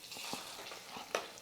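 Sweet pongal being stirred in a pan with fried cashews and raisins, giving a soft, faint sizzle with a few light scraping taps from a spoon.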